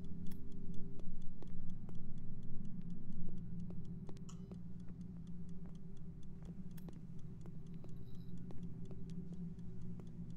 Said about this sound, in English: I hear a clock.